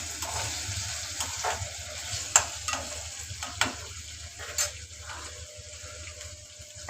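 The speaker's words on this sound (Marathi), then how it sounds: "बघा मम्मी कशी हलवतीये." Potatoes sizzle steadily in a pan as a spoon stirs and scrapes through them in a few soft, irregular strokes, close by and fairly quiet, with no talking.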